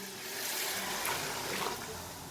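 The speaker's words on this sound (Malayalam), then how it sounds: "ഞാനിതിലേക്ക് തിളച്ച വെള്ളം ഒഴിച്ചു കൊടുക്കുകയാണ്." Boiling water poured onto rice in a pot makes a soft, steady rushing gurgle that swells briefly and then eases, with no voice heard.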